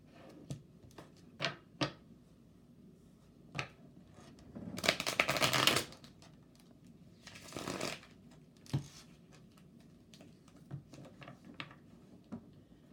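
Tarot cards are shuffled close up in soft, papery bursts, with a few quick riffles and scattered light taps and flicks between them, fairly quiet overall.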